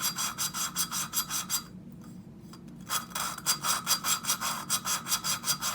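Valve lapping compound grinding an engine valve in the cylinder head of a Honda ATC 200X, a fast rhythmic back-and-forth rasping. It pauses briefly partway through, then resumes at an even pace.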